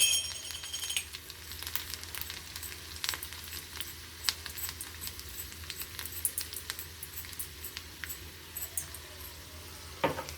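Dry red chillies and a little chana dal crackle and sizzle in hot oil for tomato dal, a steady close frying hiss with scattered pops and occasional clinks of a spoon against the pan.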